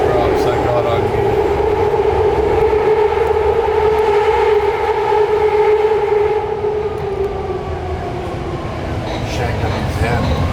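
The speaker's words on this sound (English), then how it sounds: "The BART train is waiting" A BART subway train on the San Francisco Bay Area system rumbles loudly and steadily throughout, with a sustained whining tone from the rails and motors running continuously in the foreground.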